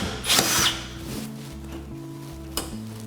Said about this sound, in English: now we're going to tighten up these fins up to the drywall